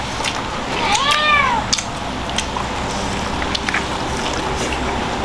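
A cat lets out one clear, drawn-out meow close by, heard over steady outdoor background noise with scattered small knocks and clicks.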